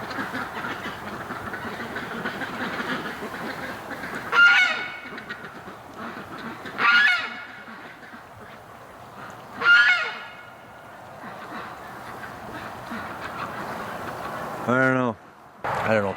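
Stripper Duck, a pet duck out in winter weather, gives several loud honking calls in short bursts spaced a few seconds apart, close by over steady background noise, with talk in between.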